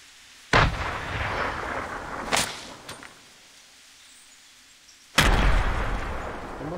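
Fortnite video game explosions: a loud boom lands early, a softer blast and crack follow, then another heavy detonation closes the run with a rumbling tail. No voices.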